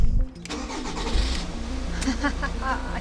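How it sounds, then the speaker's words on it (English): A camper van's engine cranks and catches after being hot-wired to the starter, then settles into a steady, close, mid-pitched idle with a slight rev, with a voice briefly heard over it. "Now all I have to do with this thing is connect it there, which is connected to my starter"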